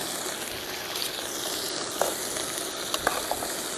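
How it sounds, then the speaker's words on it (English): Garlic sautés in a pan for white bean and kale soup at a campsite, a steady close sizzle with a few small pops and crackles, no talking. "So this is already starting to saute"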